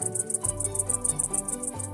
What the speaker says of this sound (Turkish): çekirge sesleriyle buluşunca